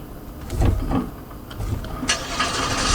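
A car engine in the game Streamer Life Simulator cranks and catches, then settles into a steady mid-pitched idle, fairly close with no talking over it.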